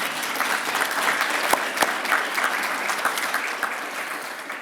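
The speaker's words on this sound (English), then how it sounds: "Let's give our mayor and our city manager a round of applause" Sustained applause from an audience at an annual business address honoring the mayor and city manager of Virginia Beach, a dense, even patter of many hands clapping throughout, fairly loud and close.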